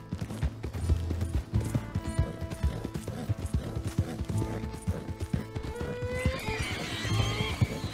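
Horse neighing and hooves clip-clopping in the Red Dead Redemption 2 video game, with steady trotting hoofbeats throughout and a whinny rising near the end, loud and close with no talking.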